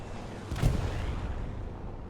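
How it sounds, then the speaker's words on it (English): A strafing run air attack in the Hell Let Loose video game on Omaha Beach, a deep rumbling burst of rapid distant impacts swelling to a heavy roar and then tailing into a sustained low rumble. "Strafing run."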